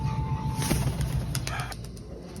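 Wings flap in a quick burst of soft beats as a pigeon takes off, followed by a few lighter flutters against faint background noise.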